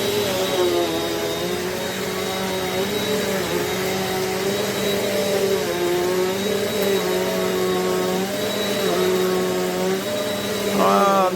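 A Eureka NEU10AE5 bagless upright vacuum cleaner runs on carpet with a loud, steady motor whine that wavers slightly in pitch as it moves back and forth, continuous and close throughout.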